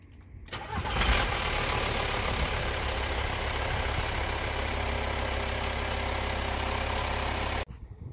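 A VW T5 van's replacement diesel engine cranks cold and fires up, then settles into a steady, loud idle that runs on with a low rumbling drone before cutting off abruptly.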